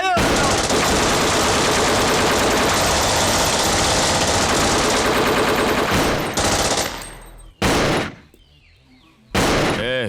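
Sustained automatic gunfire in a dubbed South Indian action movie, a dense loud burst lasting several seconds, then cutting off into brief pauses with a couple of further sharp bursts near the end.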